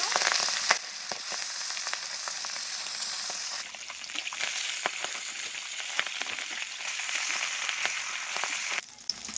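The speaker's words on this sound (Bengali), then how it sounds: "একইভাবে সব মাছগুলো ভেজে নেব" Pabda fish frying in hot oil, a loud continuous close sizzle with crackling pops and occasional light clicks throughout, no voices.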